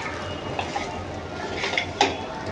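Coconut rice is tossed and stirred in a pan with the heat off, giving close, soft scraping and a few light metallic clinks.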